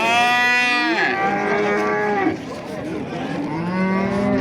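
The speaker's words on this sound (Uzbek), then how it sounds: "Sigirlar." Cattle at a livestock market moo loudly and close by, with long drawn-out overlapping calls from several cows and background crowd chatter between them.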